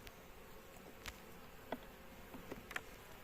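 Bees hum softly at an Istanbul hive headed by a purchased Carniolan queen, with a faint steady drone and occasional brief close buzzes as individual bees pass by.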